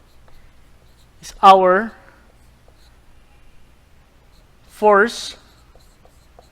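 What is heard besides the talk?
writing on a board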